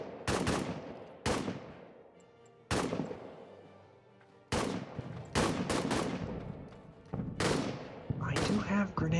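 Gunfire from French troops in the trench-warfare game All Quiet in the Trenches: a series of loud, sharp rifle shots in irregular bursts, each with a ringing decay, roughly eight to ten reports across the stretch.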